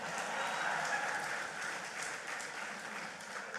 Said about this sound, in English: You all could give me a round of applause.